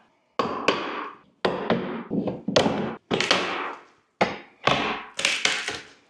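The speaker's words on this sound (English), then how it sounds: "A pry bar works really good for this. The reason I'm using a mallet is because it won't be as loud using the mallet." A rubber mallet knocks a pry bar behind painted wooden door casing during room prep, giving a series of sharp, close thunks in uneven bursts with short pauses between groups of strikes.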